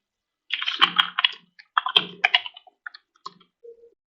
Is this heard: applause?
no